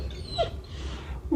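A dog gives a short whimper partway through, a brief high whine over a low rumble, with a second faint whine near the end.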